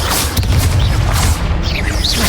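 In the Hogwarts Legacy video game, the Confringo blasting spell explodes during a wizard duel as a loud, sustained booming rumble with crashing debris and whooshing magic.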